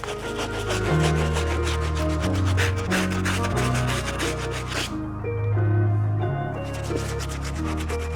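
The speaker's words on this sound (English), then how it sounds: "Now it's time to tackle these outsoles using the stiff brush." A stiff brush scrubs the outsoles of suede Air Jordan 5 sneakers in rapid back-and-forth strokes, close and rhythmic, with a brief pause near the middle before scrubbing resumes.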